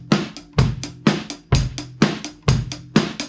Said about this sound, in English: A straight 8 sounds like this.